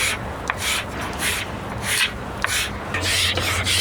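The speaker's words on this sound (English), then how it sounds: "It takes quite a few weeks to scrape all the spars back to bare timber." A hand scraper drawn over the wooden spars of the tall ship Duyfken, stripping them to bare timber: close, rhythmic rasping strokes roughly every half second, loud and steady with no talk.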